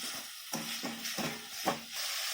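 Tomatoes and onions frying in a pan for Chettinad onion kosu, a soft steady sizzle broken by several stirring scrapes about every half second, close and fairly quiet.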